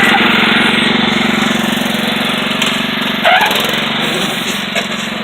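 A lawn mower engine runs at speed while the mower drives down a road, a loud, steady buzzing drone with brief rattles and bumps partway through and no talk.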